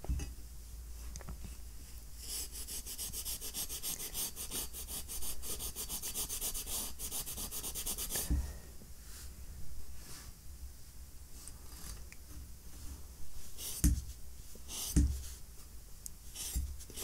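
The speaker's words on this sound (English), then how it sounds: "I will now use very fine steel wool and try to rub the rust off" Very fine steel wool rubbed over a rusty Nepalese Enfield 1853 bayonet, giving a steady close scratchy scrubbing that runs continuously, with a few sharper scrapes and knocks toward the end.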